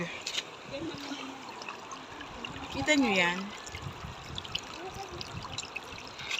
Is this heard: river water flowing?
yes